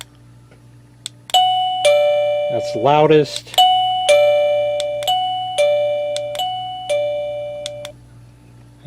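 A PLACUY wireless video doorbell chime rings out a series of loud electronic ding tones with long decaying tails, cycling through several different pitches, while someone speaks briefly in the middle.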